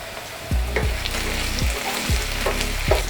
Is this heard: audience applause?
no